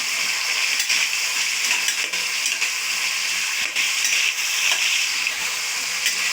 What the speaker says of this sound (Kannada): ಕ್ಯಾರೆಟ್ ಹಾಕ್ಕೊತಾ ಇದ್ದೀನಿ. ಇವೆಲ್ಲನೂ ಎಣ್ಣೆಲೆ ಚೆನ್ನಾಗಿ ಫ್ರೈ ಮಾಡ್ಕೋಬೇಕು.